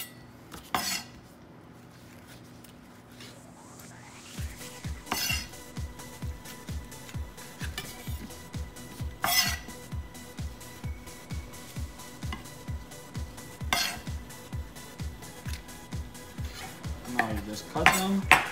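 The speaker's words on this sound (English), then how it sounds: "You have to core your tomatoes, get all the stem out that has all the liquids" A knife works through fresh tomatoes on a cutting board, tapping in a fast, even rhythm of sharp close strikes that picks up after a few quiet seconds and runs on without talk.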